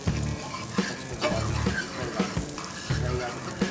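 Vegetables for veg hakka noodles fry in a hot pan while being stirred, a steady sizzle broken by repeated scraping, clattering stirs at a regular rhythm, close and fairly loud.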